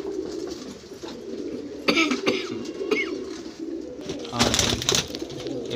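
Pearl-spotted golden pigeons kept in a loft coo in low repeated calls amid background murmur, with a couple of sharp cough-like bursts and brief noisy clatters partway through.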